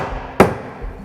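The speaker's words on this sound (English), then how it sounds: "A simple remedy is to tap it with a hammer" A hammer strikes once, sharp and close, tapping a protruding nail head into timber cladding against a quiet background.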